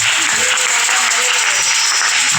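Continuous applause and cheering from a church congregation, a dense, loud hiss of many hands clapping at once, sustained evenly throughout, with a few faint voices rising within it.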